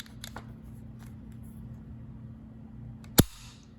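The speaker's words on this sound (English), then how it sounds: "Not a lot of pressure on that firing pin spring. I can kind of tell from the way it sounds" Dry-firing a Mannlicher 88/90 bolt-action rifle: after faint handling rattles over a low hum, a single sharp firing-pin click near the end, close and isolated.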